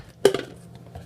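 A spoon knocks sharply against a pot of boiling water while stirring, with one bright clank followed by a couple of lighter taps and faint scraping, close by and with no talking.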